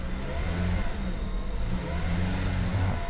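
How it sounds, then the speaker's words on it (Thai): A 2016 Toyota Camry 2.0G engine idles steadily nearby, a low continuous hum and rumble with no voices and no change in pitch. "ฟังเสียงเครื่องยนต์กันนิดนึงนะครับ"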